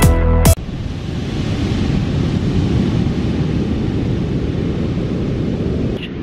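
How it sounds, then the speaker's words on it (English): Ocean waves break at Baker Beach in a steady, broad roar of surf, recorded close and loud with wind buffeting the microphone throughout. "Look at the waves over here."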